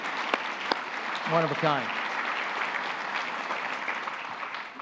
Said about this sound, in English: So big round of applause from all of us.